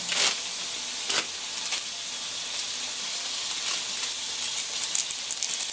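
Garlic, onion and chicken frying together in a pan, a continuous crackling sizzle with sharp spitting pops, heard up close and alone.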